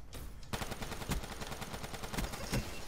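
Rapid gunfire in Black Ops 3 gun game mode, a quiet opening followed by a dense run of automatic shots with a few louder sharp bursts standing out, no speech.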